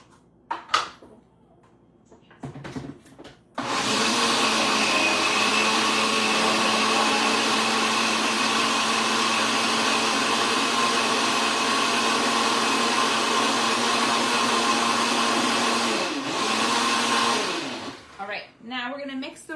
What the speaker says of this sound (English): And I have my blender and having a hard time closing it.